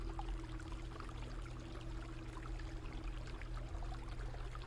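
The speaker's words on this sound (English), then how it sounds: "a round black hole that the water was rushing towards" Rushing water draining toward a round black hole in a floor in a furry visual novel game, a steady broadband wash with a low rumble and faint trickling detail, continuous and fairly close throughout.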